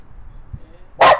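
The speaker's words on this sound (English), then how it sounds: "Ziggy, what are you barking at?" A single loud, close bark from Ziggy the dog rings out near the end, after a quiet indoor stretch with only a soft thump.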